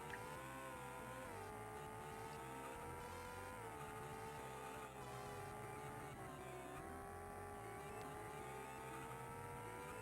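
A race car engine in a Hot Wheels video game drones steadily with a sustained tonal whine that rises and dips slightly as speed changes, loud and continuous with no talking.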